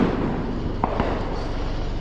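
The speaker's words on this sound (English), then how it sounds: "everyone shoots off fireworks" Fireworks being set off around a neighbourhood, heard as a couple of muffled distant pops and bursts over a steady low rumble of background noise, with no talking.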